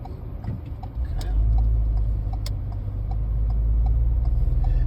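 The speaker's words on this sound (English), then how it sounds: "A little bit of traffic here." Road traffic on a Saturday in May near Myrtle Beach's ocean front: a close, loud engine rumble rises as cars pass, with a faint ticking running through the steady drone.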